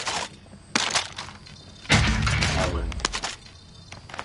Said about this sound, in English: Bloody explosions!